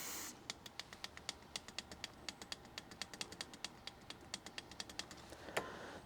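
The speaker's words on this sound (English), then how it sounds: "All you can do is get them clicking" Micro switches on a Tascam BR-20 tape machine clicked over and over, a steady run of sharp, close clicks at a fairly even rhythm over a low background hiss.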